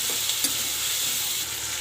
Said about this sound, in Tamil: இப்போ இது எல்லாத்தையும் நல்லா இந்த எண்ணெயிலே நல்லா வதக்கணும்